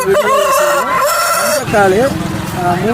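A rooster crows loudly nearby at a rooster market in Kunnathur, Tiruppur, a long wavering call, followed by another bird's crow amid background voices and market bustle.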